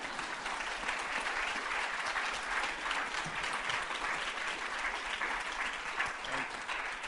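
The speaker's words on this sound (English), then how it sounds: "Yeah, clap." Steady audience applause at a poetry reading at the Sewanee Writers' Conference, a dense even wash of many hands clapping that holds at constant loudness throughout with no voices over it.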